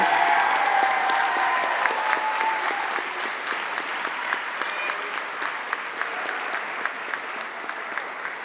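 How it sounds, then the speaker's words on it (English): Graduates at a school commencement applaud their families and friends seated behind them, a steady, dense wash of many hands clapping from a large crowd that fades slightly toward the end. "turn and applaud your families and friends behind you who have always supported you"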